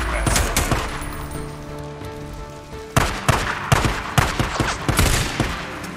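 Rifle gunfire in the video game Days Gone comes as a run of sharp, loud bursts in the second half. A steady background hiss and ambience lies underneath.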